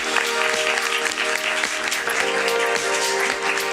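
Dense, sustained audience applause in a large lecture hall welcoming a Nobel Prize laureate, loud and continuous throughout, with a low steady hum beneath it.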